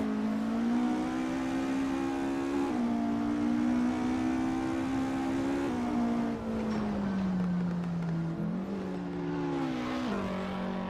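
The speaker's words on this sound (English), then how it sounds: "here's a look at the beautiful Porsche RS Spyder going around Mišeluk" A Porsche 718 RS 60 Spyder in Assetto Corsa drives around the Mišeluk circuit, its engine note droning steadily and loud throughout, with pitch shifts at gear changes and slight dips as it eases off between pulls.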